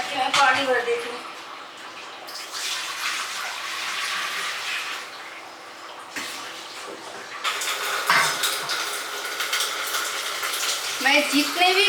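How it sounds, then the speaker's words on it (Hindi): Water pours into a clay matka pot in a home kitchen, a steady splashing rush that runs nearly the whole time, close and fairly loud, with someone speaking over it. "पहले मटके में पानी भर देती हूँ।"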